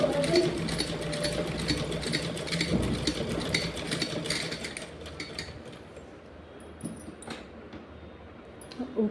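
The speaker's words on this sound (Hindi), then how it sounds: "सिलाई लगाते समय हमें सिलाई को लॉक ज़रूर करना है, जिससे कि हमारी ये सिलाई टूटे नहीं।" A sewing machine runs steadily while locking a stitch on velvet fabric for a small Janmashtami doll dress, its dense mechanical whir continuing close and loud through most of the stretch and easing near the end.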